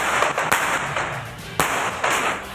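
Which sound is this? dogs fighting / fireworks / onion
fireworks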